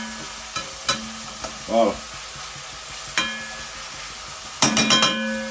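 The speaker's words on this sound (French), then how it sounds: "Il laisse aller les oignons bien remis avec le lardon." Onions and bacon bits (lardons) frying in a pan for a Réunion rougail graton, with soft sizzling under scattered clinks and stirring knocks, a brief voice near the end.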